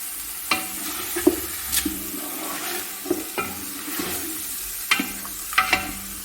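Ground spices, cardamom, clove and black pepper, fry in a pan with a constant low sizzle, while a utensil scrapes and stirs in irregular clicks and swishes close by.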